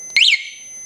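Aftermarket alarm on a Suzuki GSX-R K2 motorcycle gives a single short electronic chirp, loud and close, then a fading tail.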